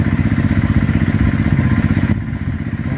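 A motorcycle stuck in mud revs hard and close, giving a loud, pulsing engine chug with clattering thumps that continues throughout and eases off slightly after a couple of seconds.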